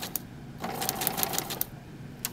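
A sewing machine runs for about a second of steady mechanical stitching while pivoting and sewing toward a stop point, with brief clicks before and after; close and moderately loud, no talking.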